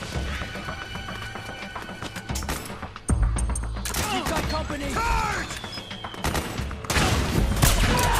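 Repeated tranquilizer gun shots from Metal Gear Solid 4 crack out among horse whinnies and hoof clatter, with several sharp bursts and a steady mid-level din of battle under the action.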